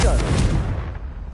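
A Confringo blasting spell goes off in the Hogwarts Legacy video game: a loud, deep boom hits at once and rumbles away within a second.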